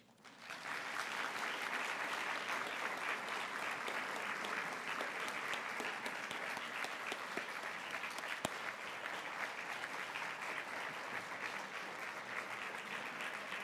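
Sustained applause from a convocation audience after a 2014 keynote address by Federico Mayor, rising quickly at the start and holding as a full, even roar of clapping for over ten seconds.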